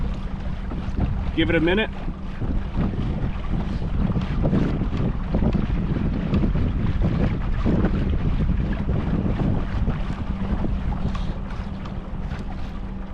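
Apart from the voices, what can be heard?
boat trolling motor running at 80% throttle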